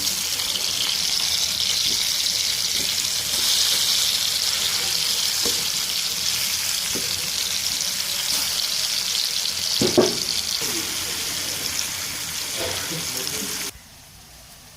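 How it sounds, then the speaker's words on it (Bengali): Pumpkin slices fry in hot oil with a steady, close hiss and sizzle throughout, a few light clinks of utensils along the way, before the sound drops off abruptly near the end. "এখন এটাকে গরম তেলে ভেজে নেব।"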